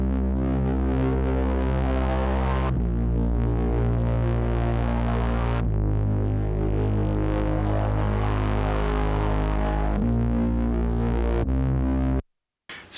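Synth saw bass in a dark, aggressive future-metal style plays a simple root-note line of long, buzzing sustained notes that change pitch every few seconds, loud and alone, before cutting off abruptly at the end.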